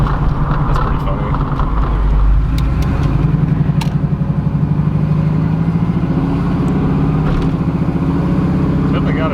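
Z28 Camaro garage find with a shift kit, its engine running close and loud while driving, with a pulsing exhaust rhythm and a change in tone around a gear shift, plus occasional clicks and knocks.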